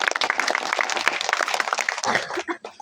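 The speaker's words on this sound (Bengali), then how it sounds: "ম্যামের জন্য হাততালি দিয়ে দাও" Children clap for the madam at a magic show, a dense burst of many hands that thins out and trails off into a few scattered claps near the end.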